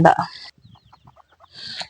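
Hens cluck in a quick series of soft, close clucks, bracketed by louder squawking calls at the start and end.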